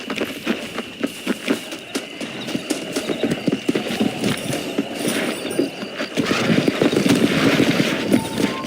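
A horse gallops in the Western video game Red Dead Redemption, its hooves drumming in a fast, steady clip-clop that grows louder and denser toward the end, with no voices over it.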